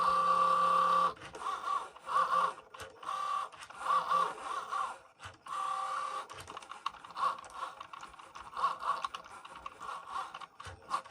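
A Cricut Joy cutting machine running while making vinyl for a personalized Thermoflask: a whirring motor hum broken by rapid stepping, clicking and ratcheting bursts, close and fairly steady over about eleven seconds.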